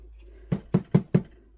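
Four quick knocks of a glitter-coated craft piece against a surface, tapping off excess glitter while the Mod Podge is still wet, evenly spaced, close and dull.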